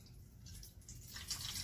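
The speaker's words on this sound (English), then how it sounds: "I'm just pouring it through this little strainer" Elderberry juice poured through a small strainer, a soft, steady liquid trickle and dripping that grows a little louder toward the end, heard alone and close.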